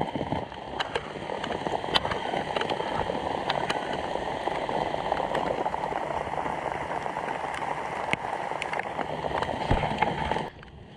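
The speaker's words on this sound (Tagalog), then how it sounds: "Abutan po kami ng bagyo, ulan." Steady rain during a storm, a dense continuous patter with occasional sharper drops, close and fairly loud, fading out abruptly at the end.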